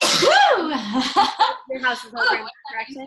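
A person lets out a single sharp, loud sneeze close to the microphone at the very start, and someone then goes straight on speaking.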